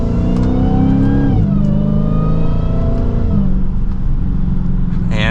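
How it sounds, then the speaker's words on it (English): A supercharged V8 Dodge Challenger SRT Hellcat engine revs up loudly and close, climbing in pitch through the gears with a high supercharger whine layered over the roar. "Supercharger whine definitely sounds great."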